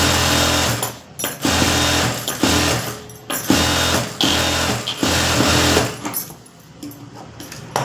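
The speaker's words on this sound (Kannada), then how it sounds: "ಇದ್ರ ಮೇಲೆ ಸ್ಟಿಚಿಂಗ್ ಹಾಕಬೇಕು, ಸರಿನಾ." A sewing machine stitches a blouse lining in steady, loud bursts of rapid mechanical whirring, broken by brief pauses, running close and alone before slowing and quieting near the end.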